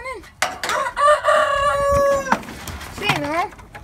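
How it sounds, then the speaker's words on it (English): A rooster crows loudly at close range during farm chores, one full sustained crow followed by a shorter crow, with people talking nearby. "Look out, Rooster. Get on out of here, Rooster."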